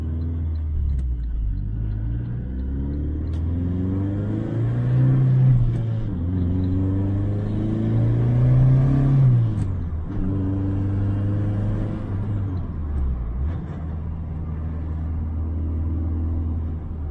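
A SAAB 9-5 Aero diesel with a 6-speed gearbox and an Opel Omega rear differential drives along, its engine rumbling loudly and steadily as the pitch rises and falls through several gear changes; no talking.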